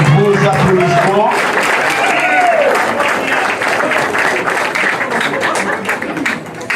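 An audience applauds at a medal ceremony during the Francophonie Games in Kinshasa, crowd clapping rising over an announcer's voice and a bit of music at the start, then continuing broad and steady.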